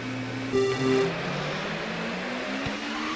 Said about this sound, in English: Not giving the engine too much RPMs off the line